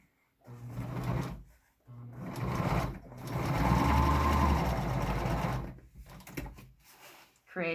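A sewing machine stitches a tri-fold mask of thick cotton fabric in steady, close whirring runs, starting and stopping several times with short pauses between bursts.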